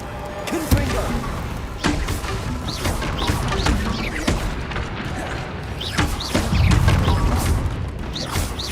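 The Confringo blasting spell in Hogwarts Legacy lands as a series of sharp booms and crashing impacts, spaced irregularly amid ongoing combat noise, with a heavier rumbling burst near the end.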